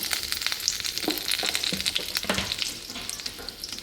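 Steady sizzling of an egg dish with onion, green chilli and coriander frying in a pan, with scattered stirring clicks and spits throughout, close and fairly loud.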